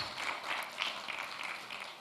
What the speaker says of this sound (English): Please, a round of applause for our 40 semi-finalists.